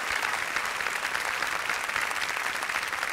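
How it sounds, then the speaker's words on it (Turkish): Applause from a television studio audience at the grand final of a Turkish folk song show, loud and sustained dense clapping holding steady for the whole stretch. "Önce alkışlarınız onlar için."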